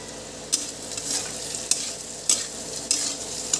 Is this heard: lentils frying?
yes